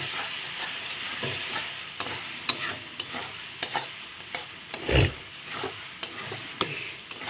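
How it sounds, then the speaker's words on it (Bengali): Spice masala with chili powder being stir-fried in oil in a pan for a bhola fish curry, giving a steady soft sizzle broken by close scrapes and knocks of a stirring spoon, with no voices. "ভালো করে কষিয়ে নিচ্ছি মশলা।"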